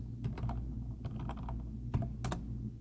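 Typing on a computer keyboard at a desktop, with steady, slightly irregular close key clicks alone over a low hum, without speech.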